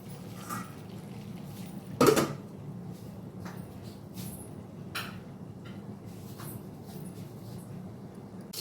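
Malabar spinach and hilsa fish head stirred in a cooking pot, with one loud clatter of a utensil against metal followed by faint scraping and light knocks, close by.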